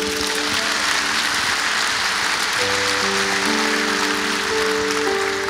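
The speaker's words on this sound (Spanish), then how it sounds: "Un aplauso para el Señor." Church congregation applauding during a youth service, a steady broad wash of clapping that fills the whole stretch, with a sustained musical tone underneath.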